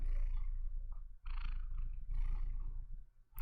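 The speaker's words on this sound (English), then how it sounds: "Can you guys hear Peko purring" A cat purrs right next to the microphone, a low, continuous rumbling hum with a steady pulsing texture, faint but close, heard alone without talk.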